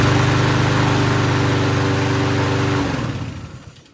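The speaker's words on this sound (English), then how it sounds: "Fantastic running mower." A 2012 Troy-Bilt TB 240 lawn mower with a Honda engine, about 15 years old, runs at a steady loud idle-like drone, then cuts off and winds down over the final second.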